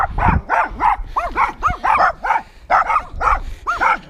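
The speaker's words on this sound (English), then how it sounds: "Yes, we've been seen off by a hound." A hound barks repeatedly in a fast, steady series of sharp woofs on a beach, close and loud, with a brief yip near the start.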